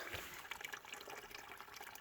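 Spring water trickles steadily into a dirty catchment box in Southern California, a faint, continuous, even flow with soft splashy texture and no voices.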